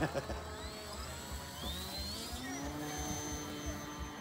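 TunCub RC model airplane, a Tundra and Cub hybrid, taking off: a steady buzzing electric motor whine with rising pitch sweeps as it climbs, mixed with outdoor background noise.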